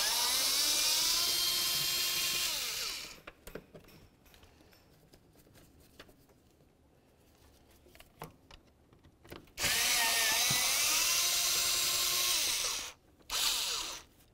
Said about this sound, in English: you need a T25 bit. Remove all the bolts from each corner.